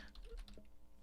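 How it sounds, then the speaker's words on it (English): A computer keyboard clatters faintly with a quick burst of several key taps, close but quiet, with no voices. "sorry, my keyboard."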